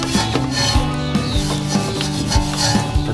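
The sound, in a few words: wheel brush scrubbing the barrel of a car wheel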